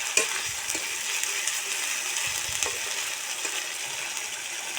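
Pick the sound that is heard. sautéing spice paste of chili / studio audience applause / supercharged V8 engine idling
sautéing spice paste of chili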